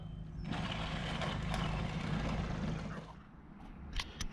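Dodge pickup (King Dent) with a Rough Country suspension upgrade and dual stabilizers, driving on a test run: a steady, loud broadband engine and road rumble that fades out after about three seconds, followed by a couple of brief knocks.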